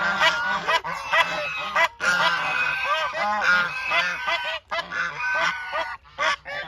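A group of geese honking loudly by the water, close and continuous nasal calls overlapping in quick bursts with only brief pauses.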